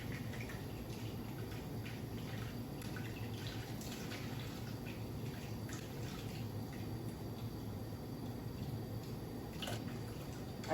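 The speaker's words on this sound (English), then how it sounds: "I'm gonna wash it with water and squeeze lime and massage it in" Tap water running steadily over raw salmon as it is washed in a kitchen, a constant low wash of flowing water with faint splashes and drips throughout, no talking.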